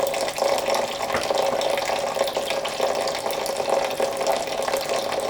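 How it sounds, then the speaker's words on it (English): Tap water running steadily from a faucet over turnip greens soaking in a sink or pot, a continuous close, fairly loud splashing rush with no talking. "So I'm going to add a little bit more water to mine."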